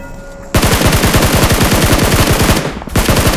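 Loud, rapid automatic gunfire from the video game PUBG Mobile rattles in a continuous burst, briefly pausing before another volley, close and dominant.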